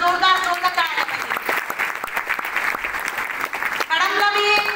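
An audience breaks into loud, dense applause at a felicitation event, many hands clapping together steadily for a few seconds, with a speaking voice on either side of the clapping.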